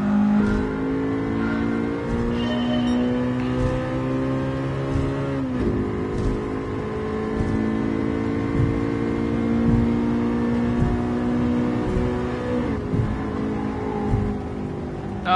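A car engine in Gran Turismo 7, on a licence test driven with an H-shifter, revs steadily and rises in pitch through the gears, with brief drops at the shifts and a constant loud whine.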